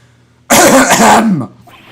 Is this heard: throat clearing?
yes